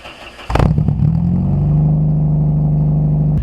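A VW Gol G2 with an AP engine and straight-pipe exhaust fires up and holds a loud, steady raspy drone, with a sharp burst at the start settling into a constant close rumble.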